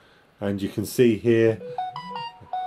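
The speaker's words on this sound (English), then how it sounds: "excuse the phone there" A telephone beeps in a ham radio shack, giving a few short electronic tones and rising blips right after someone speaks, the beeps fairly clear and moderately loud.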